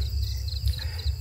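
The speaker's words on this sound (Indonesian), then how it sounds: "kita bisa mendengar suara jangkrik ya, jadi syahdu" Crickets chirp steadily at night at a quiet hillside campsite on Bukit Jengkoang near Coban Rondo, a dense continuous trill with a low rumble underneath and no voices.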